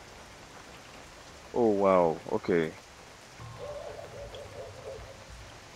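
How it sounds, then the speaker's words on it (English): Steady soft in-game rain patters in the indie horror game VHS Slaughter while a voice speaks briefly, followed by a faint tonal call over the rain. "It's raining in-game"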